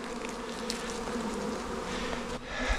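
Honey bees from newly installed packages swarming around a backyard hive, a dense continuous buzzing drone, close and steady throughout with no talk.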